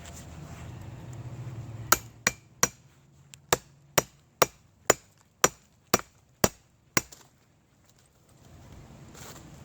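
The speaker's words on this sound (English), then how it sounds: "I'll just take my chisel, save the saw blade." A chisel chops into a hollow piece of wood while someone searches for fatwood, giving about a dozen sharp, loud, close blows spaced roughly half a second apart, with quiet gaps between them and no talking.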